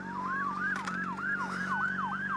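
An ambulance siren yelps in rapid, regular up-and-down sweeps, heard at moderate distance from a motorcycle, with a low steady engine hum underneath and no talk.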